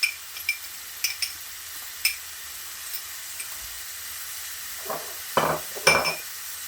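Quiet sizzling of vegetables (peppers, tomato, garlic, onions, spring onions, thyme) frying in a pan, with occasional clinks and scraping of a utensil stirring near the end.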